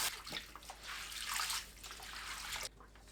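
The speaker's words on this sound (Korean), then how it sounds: "톳을 물에 흔들어 헹굽니다." Fresh hijiki seaweed is shaken and rinsed in a basin of water, giving a soft, continuous sloshing and splashing that is fairly faint and close, ending abruptly.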